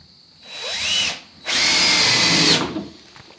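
A power drill drives screws into workbench studs in two loud, close bursts, a short whirring spin-up followed by a longer sustained run, then stopping.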